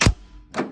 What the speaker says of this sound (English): Pull up on the handle,